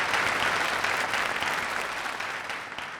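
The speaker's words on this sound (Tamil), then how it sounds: "நல்ல ஒரு உற்சாகமான கரகோஷம் கொடுத்து" Enthusiastic applause from an audience welcoming a speaker on a Tamil television show, a thick continuous roar of clapping that begins loud and gradually tapers slightly.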